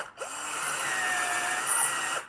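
Power drill forcing a bit through a hole in a roller skate, a loud, steady high-pitched whine with grinding tones that holds for about two seconds, close up with no talking.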